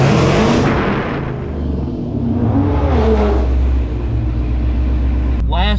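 A 1000-horsepower Jeep Trackhawk accelerates hard in a drag race, a loud, roaring engine whose pitch climbs and falls through gear changes. Wind noise runs across it, and someone speaks over the engine.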